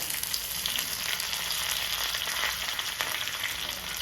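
Fenugreek seeds, chopped shallots, dried red chilies and curry leaves fry in hot oil as a tempering for a Kerala tomato curd curry, giving a steady, dense, close sizzle that holds evenly throughout with no talking.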